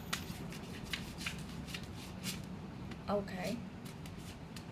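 Tarot cards are handled and shuffled in soft, quick riffles and slides close to the mic, while a person speaks briefly near the end.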